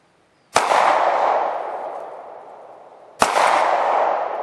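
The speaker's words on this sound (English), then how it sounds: "Erica, see if you can shoot the 3-gun flat on the ground" Two loud, sharp gunshots ring out at a steel 3-gun target lying flat on the ground on an outdoor range, each followed by a long echoing decay, spaced about two and a half seconds apart.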